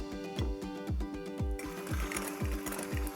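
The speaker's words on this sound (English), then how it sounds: "To start, I'm gonna mix up some softened unsalted butter" An electric mixer beats softened unsalted butter in a repetitive, fast mechanical rhythm of evenly spaced thumps and whirring, loud and close, with no one talking.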